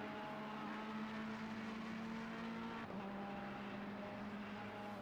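A Ferrari GT3 race car engine in Assetto Corsa Competizione on the Barcelona circuit drones steadily at high revs, with a gear shift partway through and the pitch dropping, then climbing again.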